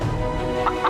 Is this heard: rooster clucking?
yes